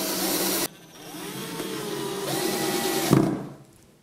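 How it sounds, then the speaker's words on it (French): A power drill drives screws to fix a hinge onto the back of an oak TV and bookcase unit, giving a steady motor whine with a rising pitch sweep and a sharp clunk near the end, then fading out. "il suffit de visser la charnière sur le fond du meuble"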